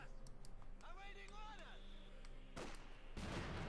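Gunfire from a Company of Heroes 2 battle between Wehrmacht and US forces, heard as sharp broadband bursts near the end over a steady game backdrop, with a voice talking throughout.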